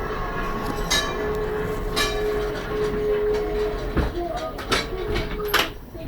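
London Tram 331 running at Crich Tramway, a continuous rumbling ride with rhythmic wheel clicks, a thin sustained squeal and occasional sharp knocks, heard from on board with no talk.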